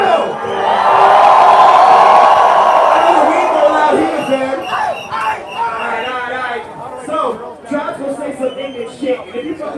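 Loud crowd roaring and screaming at a live 420 show in Vancouver, a sustained swell of cheering that fades into scattered whoops and yells with voices talking over it.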